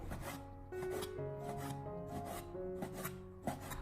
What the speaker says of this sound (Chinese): 接着再用刀给它剁一下，把它剁成肉馅